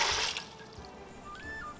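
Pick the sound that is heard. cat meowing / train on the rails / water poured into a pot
water poured into a pot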